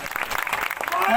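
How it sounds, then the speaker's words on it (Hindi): Crowd applause at a public welcome event at Ambedkar Chowk, Chakarpur, a short burst of clapping mixed with voices and speech. "ताली बजा दो भाई"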